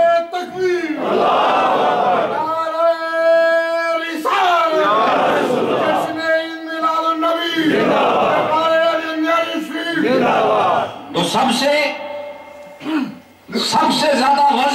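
A large congregation at an Islamic religious gathering chants loud, sustained unison responses to the Nara-e-Takbir call, several long voiced shouts in succession with brief pauses between them, filling the hall.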